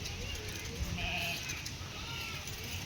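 A single sheep bleats once near the middle, a short wavering cry over a low outdoor background with faint ambient noise.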